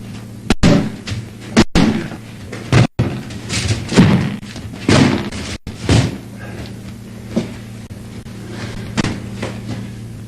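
Martial artist throwing a San Shou combination of hook, uppercut, roundhouse kicks, cross and side kick, landing as a string of loud, sharp thuds and slaps at irregular intervals, with a steady low hum underneath.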